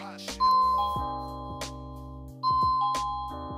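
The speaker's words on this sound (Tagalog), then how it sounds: "So, now, try natin tong doorbell kung paano ba siyang gumagana." A self-powered, battery-free wireless doorbell receiver plays a bright two-tone ding-dong chime twice, close and clear, the first rings fading before the second starts.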